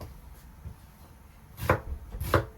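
A knife slicing an onion on a cutting board: a few soft taps, then two crisp, close chops near the end, with no voices.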